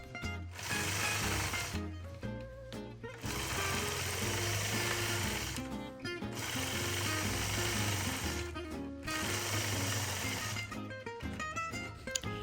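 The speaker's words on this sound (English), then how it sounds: "I'm going to stitch those point-to-point lines back across the top of the block, and then I can close off this design by stitching right back to where I began" A sewing machine stitches point-to-point quilting lines across a patchwork block, running in long, loud, continuous bursts separated by brief stops.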